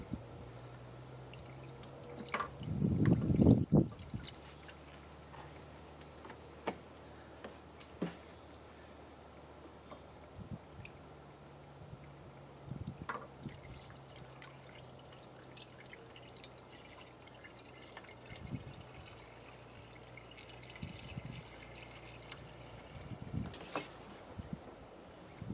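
Water is poured into a Dakota's cooling system, making a brief loud splashing pour, then faint scattered drips trickle from a leaking radiator petcock over a long quiet stretch.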